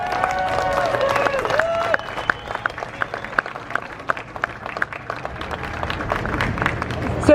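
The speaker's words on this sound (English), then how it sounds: "Let's give them a big round of applause." Audience applause at a Walk of Fame ceremony for Sid and Marty Krofft. A dense crowd claps steadily for several seconds over a fading voice at the start, with no other talk.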